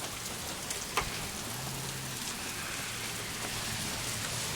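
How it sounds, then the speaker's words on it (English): Hailstones fall during a Florida hail storm, a dense steady patter with an occasional sharper impact, continuous and enveloping, no talk. "Those are hailstones."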